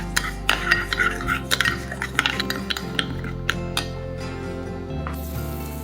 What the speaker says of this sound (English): stir fry shallots, garlic, ginger until fragrant